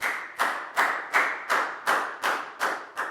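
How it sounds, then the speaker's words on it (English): A Year 4 maths class claps together for a classmate: nine crisp, evenly spaced claps in a steady unison rhythm, each sharp and bright, close by and with no talking. "Big round of applause for Pak Bung, please, guys."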